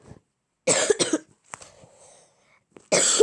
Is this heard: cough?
yes